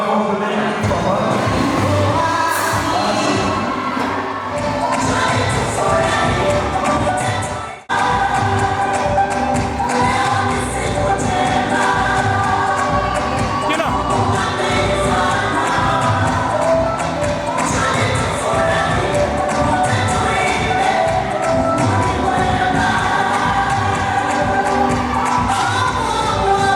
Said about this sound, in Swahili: Piga tena makofi mengi kwa Bwana.